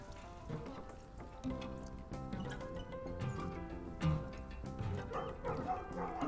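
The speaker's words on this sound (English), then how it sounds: "Where's that dog again?" A dog barks in the video game Night in the Woods, a few yips and barks spaced over a background of game music and ambient sound, moderately loud and close.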